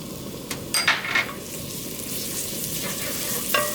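Minced garlic sizzles in a spoonful of olive oil in a pan, a steady close frying crackle with a few brief utensil scrapes and clinks, and no talking over it.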